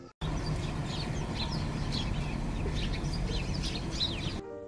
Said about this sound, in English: The intermittent chirping of house sparrows.